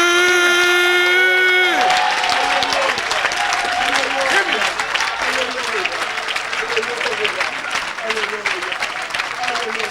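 A church congregation breaks into loud, sustained applause and cheering, with whoops and shouts rising over the clapping after a short sung or held tone at the start; a voice is heard speaking over the crowd.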